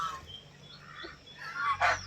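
Poultry on a farm with white ducks nearby, giving a short honking, goose-like call near the end over quiet background noise.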